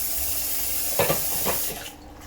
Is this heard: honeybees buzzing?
no